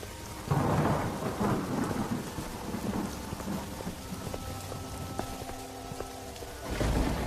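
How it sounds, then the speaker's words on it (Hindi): Heavy rain pours steadily with deep rumbling thunder rolling underneath, swelling at the start and again near the end. "वह कुछ दूर चला ही था कि तभी जोर जोर से बारिश शुरू हो जाती है।"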